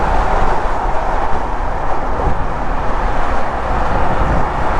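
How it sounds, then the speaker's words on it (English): Loud, steady rumbling roar of noisy train wagons passing close by a convertible car on a drive from the Birmingham M6 to Castle Vale, continuous throughout with no talk. "Apologies for the very noisy wagons."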